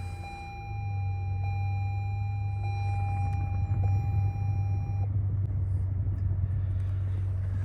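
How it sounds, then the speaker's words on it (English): A 2015 Toyota Sienna with a wheelchair ramp conversion starts and settles into a low, steady idle rumble close by, while a repeating electronic chime beeps over it for the first few seconds and then stops. "That'll go and turn on the engine."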